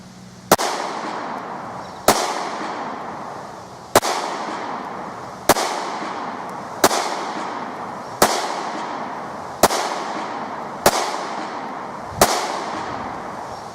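Nine sharp gunshots from a handgun, fired at a target from about 18 feet, crack out at a steady pace roughly every one and a half seconds, each loud report trailing off into a brief echo.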